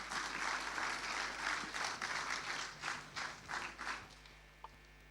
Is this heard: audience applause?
yes